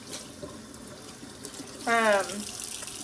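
Water runs from a tap during a dog's first bath, a soft steady trickle with a brief louder splash partway through, under a quiet background.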